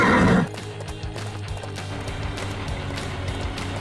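A cartoon pony whinnies loudly at the start, then its hooves clip-clop steadily through the rest, in an animated rescue show for kids.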